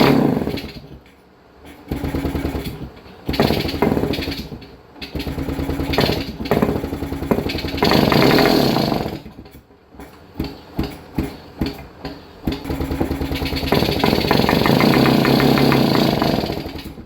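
A barn-find 1966 Yamaha YA6 motorcycle engine sputters and runs rough, loud and close, surging and revving unevenly with brief stalls and choppy pops between longer sustained stretches.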